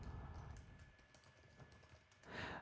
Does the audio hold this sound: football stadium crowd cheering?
no